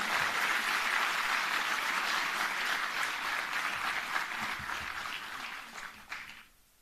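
A large audience at a government event on a campus applauds in a steady, dense wash to welcome the Union Finance Minister, sustained for several seconds before fading out at the end.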